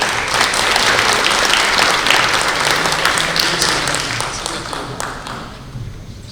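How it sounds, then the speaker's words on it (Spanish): An audience claps loudly and steadily to welcome a coffee agronomist panelist at an agriculture panel, the applause dense and sustained before gradually thinning toward the end. "Bienvenido, un fuerte aplauso"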